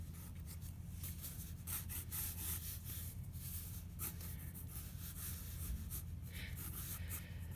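A pencil sketches on paper, its soft scratchy rubbing strokes coming in quiet, irregular bursts over a low background hum.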